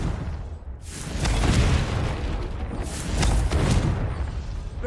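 A Confringo fire spell in Hogwarts Legacy, heard as two heavy, booming blasts, each rolling into a long loud rumble.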